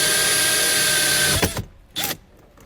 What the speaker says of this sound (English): now we'll continue cutting out that area with our hole saw